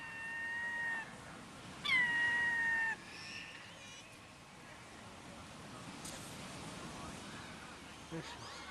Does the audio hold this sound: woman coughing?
no